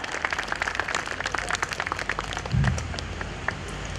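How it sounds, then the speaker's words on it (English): Audience applause for the guest of honor at a DAV school function, a sustained patter of many hands clapping at moderate distance with a brief low thump partway through, no speech. "A huge round of applause for our guest of honor."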